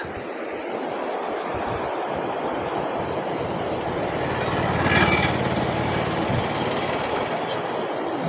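A mountain waterfall in the Marayoor sandalwood forest area roars steadily, a dense, unbroken rush of falling water that swells briefly toward the middle before settling back.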